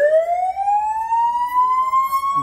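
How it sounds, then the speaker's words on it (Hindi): A police siren fitted to a Bolero 4x4 vehicle sounds a single loud, close wail, rising steadily in pitch over two and a half seconds with no other sound. "सायरन है"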